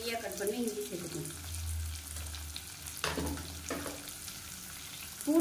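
Finely chopped garlic and ginger fry in a pan with a soft, steady sizzle, punctuated by a few stirring scrapes and clinks.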